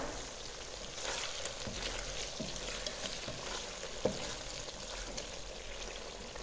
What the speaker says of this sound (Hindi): पाँच से 7 मिनट के लिए इस चिकन को इस टमाटर के साथ आपने भुनाई कर लेनी है।